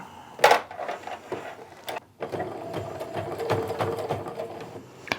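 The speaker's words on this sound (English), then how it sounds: "Since my machine is not backing up to sew, I'm just going to keep flipping it around and sewing back and forth about 8 times" A home sewing machine runs in short bursts of stitching, stopping and starting as fabric is flipped to sew back and forth on a pleated wristlet, with a loud opening burst and steady mechanical whirring close up.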